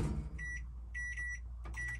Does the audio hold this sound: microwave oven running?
yes